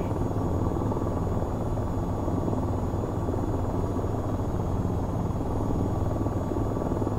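An AH-94 attack helicopter in the flight game VTOL VR drones with a steady, dense rotor and engine roar, constant and loud throughout without talk.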